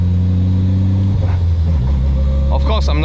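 A Toyota AE70 drift car pulls out onto a public road, its mid-pitched engine humming loud and close from inside the cabin, rising slightly near the end while someone talks over it.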